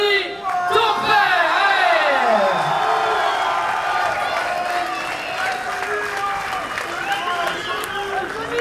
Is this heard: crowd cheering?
yes